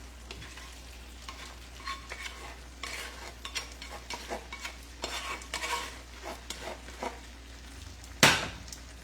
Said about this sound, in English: And we're going to stir this in.